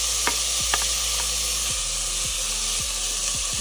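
Beans and carrot frying in a pan for high-protein khichdi, loud continuous sizzling with repeated spatula scrapes and knocks against the pan, no voices.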